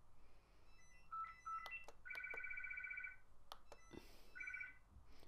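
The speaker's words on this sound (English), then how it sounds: "My phone's going now, I do apologise." A mobile phone rings with repeated electronic melodic tones in short bursts, fairly faint against a quiet room, with a few clicks between rings.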